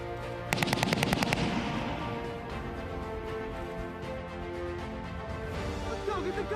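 Machine gun fire from a Delta Force training exercise: a rapid burst of loud automatic shots, then sustained gunfire and echoing battle noise under a music bed.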